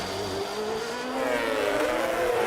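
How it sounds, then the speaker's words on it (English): A 2011 Formula 1 race car engine at the Canadian Grand Prix, heard on board, holds a high, steady whine that climbs in pitch as it accelerates, loud and continuous under broadcast background noise. "this is a replay then from on board with Lewis Hamilton"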